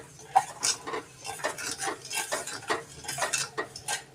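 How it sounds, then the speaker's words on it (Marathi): Sugar syrup stirred in a pan for balushahi, with a utensil scraping and clinking against the pan in a steady repeated rhythm over a faint simmering hiss, close and without talk. "त्याला हलवत राहायचं म्हणजे साखर चिटकत नाही, एकसारखीच पाक करायचं जास्त"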